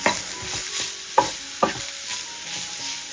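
Chili, turmeric, pepper and garam masala powders frying in a pan for samosa filling, being stirred. A bright steady sizzle runs throughout, punctuated by a few distinct spoon scrapes against the pan.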